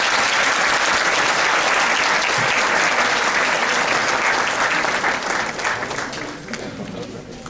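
Sustained, dense applause from an academic symposium audience on organized crime greets a doctor taking the stage, steady and loud before tapering off toward the end.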